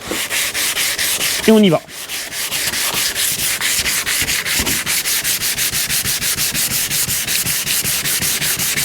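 A polycarbonate headlight lens is sanded by hand, fast rhythmic rasping strokes close to the mic, broken near the start by a brief squeak and pause, then a steady even back-and-forth scrub; one short spoken phrase precedes it.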